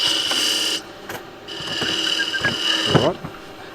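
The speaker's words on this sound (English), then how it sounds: "Little Sid, no, I'm already up to sanding." Wood is rubbed by hand in a few uneven rasping strokes, close and fairly loud, with a short scrape near the end.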